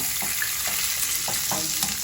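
Steady sizzling of food frying in butter in a pan, with a few soft clinks of stirring over the continuous hiss.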